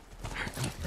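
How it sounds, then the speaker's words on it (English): Horse galloping in The Last Of Us video game, a rapid rhythmic clip-clop of hooves at close range, fairly loud and steady across the short stretch, with no talk over it. "Yay, horsey, let's go."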